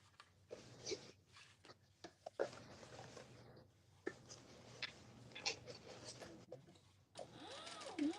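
A sewing machine runs in short and longer bursts while top stitching, a close mechanical patter that stops and starts with brief pauses between runs.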